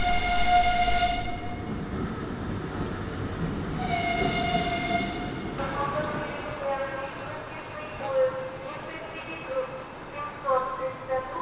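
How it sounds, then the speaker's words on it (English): Passenger train at Zaporizhzhia station, with two long sustained horn blasts over rumbling rail noise, followed by squealing wheel and brake tones as the train moves, station ambience and people talking in the background. "We're about to take train 732 to Kiev"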